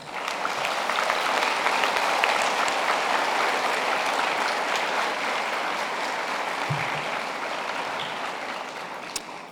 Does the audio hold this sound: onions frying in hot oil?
no